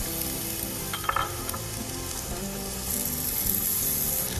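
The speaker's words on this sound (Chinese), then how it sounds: "我们把那个梨煎一下" Pear slices frying in a little olive oil in a pan, a steady close sizzle throughout with a few brief clinks and stirring scrapes near the start.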